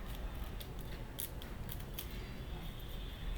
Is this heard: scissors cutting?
yes